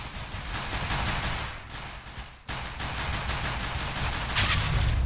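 Gunfire in a multiplayer shooter match, a dense continuous clatter of rapid shots and distant bursts, with a brief dip midway and no speech.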